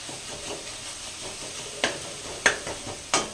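Tomatoes with added lentils frying in a pan for a dry chicken fry dish, with a soft steady sizzle and three sharp scraping clicks of the stirring spoon against the pan toward the end.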